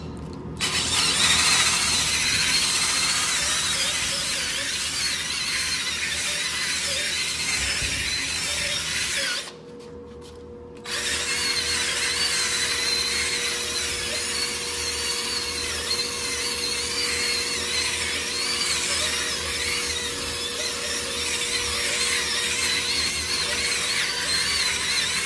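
A power scrubber runs as something is scrubbed out, a steady high-pitched whir held for most of the stretch, cutting out briefly once before resuming.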